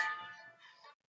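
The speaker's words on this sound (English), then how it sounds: "That's my phone." Phone notification: a faint, short, bell-like chime ringing twice and then cutting off, heard alone.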